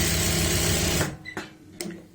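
A sewing machine stitches a seam on pants, running steadily and loudly for about a second before stopping. A couple of light mechanical clicks follow, with no voices.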